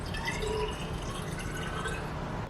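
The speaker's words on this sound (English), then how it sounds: "Just going to pour some water into the exhaust port." Water trickles and drips steadily into the single exhaust port of an engine cylinder head removed from a Ford Fiesta, a continuous close liquid fill sound with no talking.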